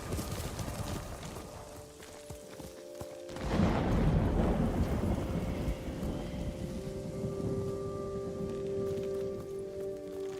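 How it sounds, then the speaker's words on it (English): Steady rain and a rumbling thunderstorm in the samurai game Ghost of Tsushima, the downpour swelling louder midway, with a low thunder roll and faint ambient tones beneath. "And in the middle of a thunderstorm."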